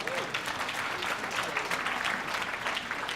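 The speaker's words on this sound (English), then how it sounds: "give them a nice round of applause." An audience at a workforce summit gives a round of applause, a full, continuous rush of clapping from many hands, fairly loud and steady for a few seconds, with a faint voice or two mixed underneath.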